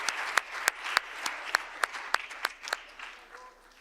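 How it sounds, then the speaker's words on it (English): A small audience at an outdoor Orange and Blue Day event claps for two people, a sparse, distinct run of individual claps that thins out toward the end, moderately close, with little crowd noise. "give it a round of applause for Sebastian and Callum"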